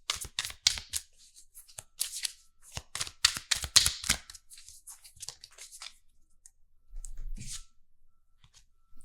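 Tarot cards are shuffled and drawn, with rapid crisp riffling and slapping bursts up close, then sparser flicks of single cards and a soft low thump near the end, no voices.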